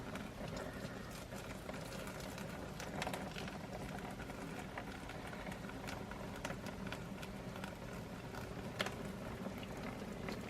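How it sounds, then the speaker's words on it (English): Hot water slowly poured from a kettle onto tie-dye powder, a faint steady liquid trickle and hiss running throughout, quiet and close with no talking. "now I've got my kettle and I've got my hot water, and we are going to slowly pour"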